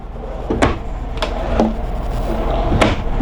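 Several sharp wooden knocks and slides as a silverware drawer in a 2018 Newmar Ventana 4311 motorhome is pulled open and pushed shut, spaced out over a low background hum.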